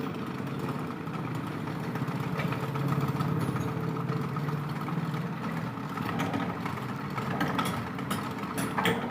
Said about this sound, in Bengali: কীভাবে ফুটো করতে হয় প্লেটগুলো মেশিনে বসিয়ে